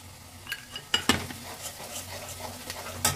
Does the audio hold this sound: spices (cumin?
yes